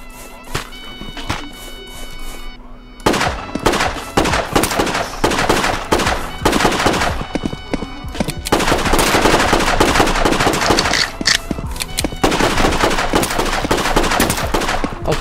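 Gunfire in the Roblox survival game Trident Survival, with rapid bursts of sharp shots, brief pauses and then longer sustained automatic fire, loud and close with no talk over it.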